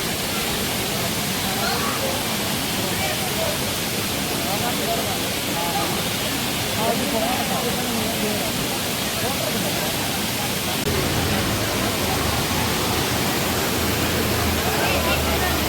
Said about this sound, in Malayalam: ഇത് മഴക്കാലത്ത് മാത്രമായിട്ട് ഉണ്ടാകുന്ന ഒരു വെള്ളച്ചാട്ടമാണ്